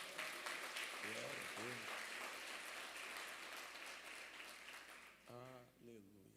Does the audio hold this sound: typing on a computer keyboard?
no